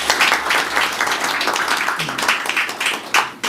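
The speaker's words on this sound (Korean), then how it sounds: "크게 박수 부탁드립니다" Audience applause at a Korean seminar on capital market value-up and ESG investing, a short burst of dense clapping filling the room, fairly close and steady throughout.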